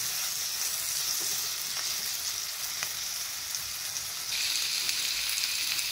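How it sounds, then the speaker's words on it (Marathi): Steady, close sizzling of a Maharashtrian tempering with bitter gourd frying in a pan, a continuous crackling hiss that swells slightly louder near the end, with no talking. "आणि ही सर्व फोडणी आपल्याला त्याच्यामध्ये एकत्र करायची आहे."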